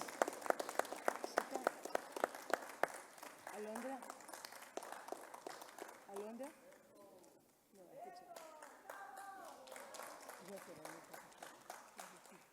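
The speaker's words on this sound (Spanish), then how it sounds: "Fuertes palmas." Hands clap sharply and rhythmically at a poetry and music award concert, then the clapping thins out as voices talk and call over it toward the end.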